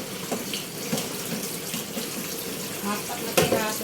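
Tap water runs steadily into a kitchen sink while raw chicken pieces are rinsed, a continuous close splashing hiss with occasional handling knocks.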